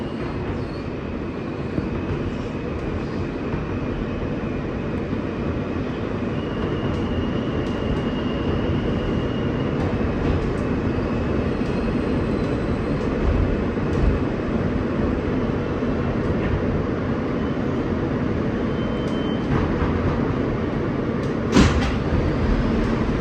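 An R160 E local subway train running toward Manhattan, a steady low rumble and rolling wheel noise inside the car with faint squeals and a brief clank near the end.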